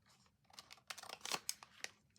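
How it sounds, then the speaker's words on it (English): Scissors trim an overhanging sheet of vellum on a herbarium journal page, producing a quick series of close, crisp snips and papery rustles that peak in the middle. "I've got a little bit of overhang with the vellum, so I'm just going to trim that away"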